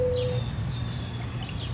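Birds sing outdoors, a few short chirps and whistled notes scattered across a brief moment over a quiet low background hum.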